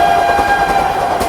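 A special passenger train runs at speed on the Bhagalpur to Anand Vihar route, heard from inside a general coach as a loud, steady rumble with a sustained horn-like tone through it.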